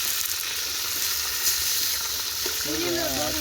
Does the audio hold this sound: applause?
no